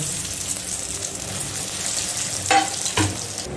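Vegetable chops deep frying in a pan of oil make a continuous, even bubbling sizzle up close, with two brief clinks or scrapes near the end.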